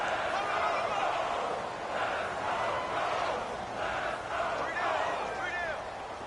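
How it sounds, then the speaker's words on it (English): A stadium crowd roars steadily in a PS4 American football video game, a broad, swelling wash of cheering that stays loud throughout, with a voice talking over it. "The crowd getting into it as we come up on a big third down."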